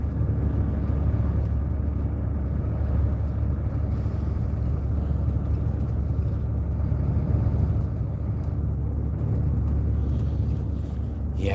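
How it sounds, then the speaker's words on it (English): A bus travels through mountains on the way toward Da Nang, its engine giving a steady, continuous low rumble from inside the cabin with faint wind hiss and no voices. "But we're on the bus now."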